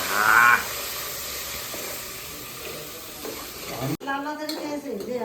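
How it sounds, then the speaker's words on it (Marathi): Gravy poured into a hot pan for a home-cooked crab dish hisses and sizzles steadily, with light stirring scrapes; a sharp break near the end gives way to brighter sizzling and faint voices. "आता ग्रेव्ही टाकून घेऊ"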